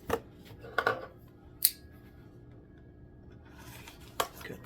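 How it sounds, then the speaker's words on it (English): Tape on a Bluetooth speaker box being cut, giving a few short, sharp scissor-like snips and slices spread across a quiet stretch, close and fairly faint. "Cut the tape."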